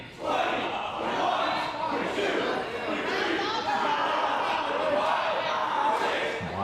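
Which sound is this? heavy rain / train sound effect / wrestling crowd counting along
wrestling crowd counting along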